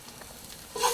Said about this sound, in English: just frying our garlic and onion